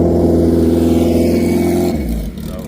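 A drag racing motorcycle engine in the Street ET class roars loudly at a steady high pitch, then drops off as the revving cuts out near the end.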